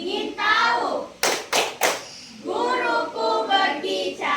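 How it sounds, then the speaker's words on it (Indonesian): Pupils in a sixth-grade classroom run a concentration clapping routine, with three sharp, loud claps in a steady rhythm between stretches of chanted, sing-song children's voices. "Tepuk konsentrasi."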